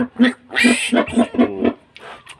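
A piglet being taught to nurse squeals loudly and close up in a quick series of short, harsh cries that trail into fainter grunts.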